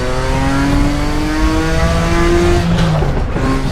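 A Nissan R32 GTR engine in a racing simulator game holds a steady, loud drone through the mountain straight at Bathurst, pitch slowly rising with a brief dip near the end, with no talk over it.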